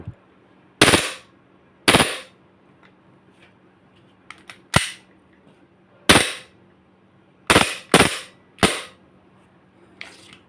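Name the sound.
WE Glock 18 G-Force T5 BB gun firing, slide cycling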